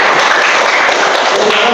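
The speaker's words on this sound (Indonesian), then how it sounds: "Aplaus untuk kelompok satu ya. Tepuk tangan untuk kelompok satu." Students in a classroom practice session applaud group one, a dense, loud wash of clapping from the whole class filling the room without pause.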